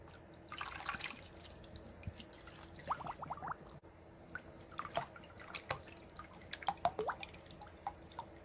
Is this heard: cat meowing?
no